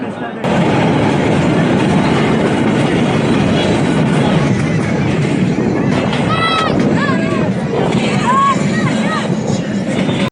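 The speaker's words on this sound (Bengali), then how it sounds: "লোকালয় পাহাড় নদী বন সবকিছু অতিক্রম করে চলছে আমাদের ট্রেন" A passenger train on the Chattogram to Cox's Bazar line rolls through hills, villages and forest, a loud, steady rumble with rhythmic rattling, plus brief high metallic squeals near the middle.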